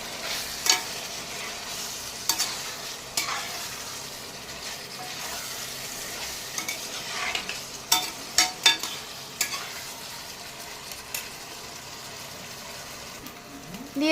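Chickpea masala stir-fried over a raised flame, a low steady sizzle broken by repeated scraping and clacking strokes of a spoon against the pan, some sharp, with no voices.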